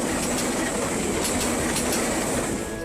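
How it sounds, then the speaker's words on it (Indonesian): A Malabar passenger train speeds past a level crossing in Bandung, West Java, producing a loud, continuous roar of wheels and rails with faint rhythmic clacks and a thin high squeal. No one speaks. "kereta api Malabar melaju kencang dari arah timur menuju arah stasiun Bandung"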